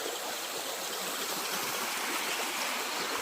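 An old village river in Konkan flowing steadily, a dense continuous rush and babble of water heard close and evenly throughout with no voices.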